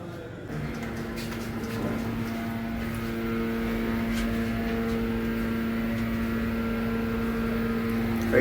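A hotel elevator running at the OMM Palace in Puri, a steady low mechanical hum with a constant tonal whine that holds evenly throughout, moderately loud and close, with no talk over it.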